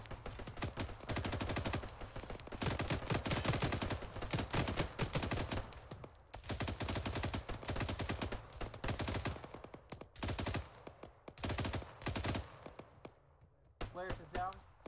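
Sustained suppressing gunfire in Arma 3 on a tropical map: long rapid bursts of automatic fire rattle continuously, broken by short pauses, with players talking over the shooting.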